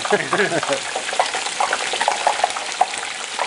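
Turkey frying in hot oil inside a metal pole barn, giving a steady close crackle and hiss of bubbling oil with brief voices at the start.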